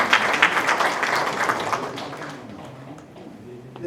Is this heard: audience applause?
yes